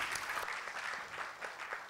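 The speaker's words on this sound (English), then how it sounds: "Could you clap for these guys?" An audience at a technology and innovation presentation claps together, with individual hand claps audible in a lively, uneven patter that fades slightly toward the end. No one speaks over it.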